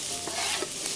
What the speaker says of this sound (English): I'm gonna put all the garlic in.